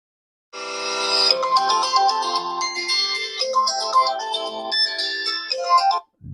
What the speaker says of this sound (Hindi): ये आ गई आपकी रिंग टून्स आ गई।